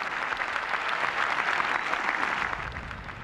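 A home crowd at the 18th green of the 1985 Open at Royal St George's bursts into sustained applause, dense clapping that stays loud throughout and eases slightly at the end, with no speech over it.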